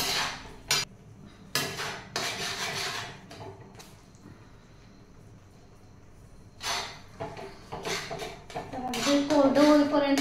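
A spoon scrapes and clanks against a pan while a flour mixture is stirred and roasted by hand. The bursts come close and intermittent, with a quieter pause in the middle.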